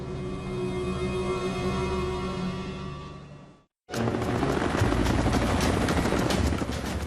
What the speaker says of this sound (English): A helicopter with a design flaw.